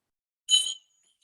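A single short bell jingle plays as a sound effect during a live horror script read, a brief bright metallic ring of under half a second, alone against silence.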